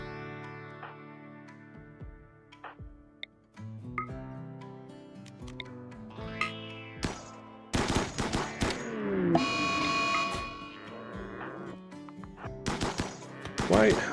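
Game gunfire rings out while hunting in RimWorld, with scattered single shots early and then dense bursts of rapid fire, fairly faint over a low hum and occasional bird-like calls, with some talk.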